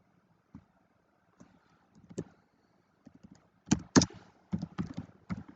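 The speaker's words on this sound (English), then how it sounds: "I'll actually just type that in." Someone types on a computer keyboard in quiet, irregular bursts of close clicks and taps that grow busier toward the end, with near silence between keystrokes.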